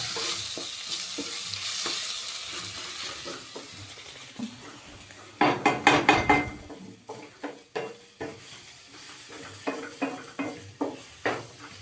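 Ground biryani masala with ginger and garlic sautéing in a pan: a sizzling hiss at first, then a run of sharp, rhythmic spoon scrapes and clatters against the pan, close and without talk.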